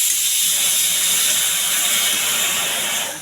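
Food frying in a pan while being stirred produces a loud, steady sizzling hiss that runs unbroken and fades away at the very end.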